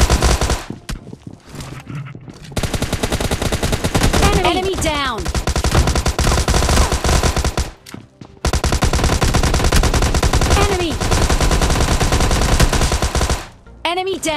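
Rapid bursts of automatic gunfire and single shots crack through a PUBG Mobile Lite squad fight, loud and close, coming in long dense volleys with a couple of brief gaps.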